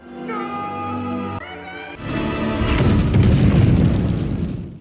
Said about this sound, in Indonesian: Dan boom, pijakan Henry hancur dan Henry pun terjatuh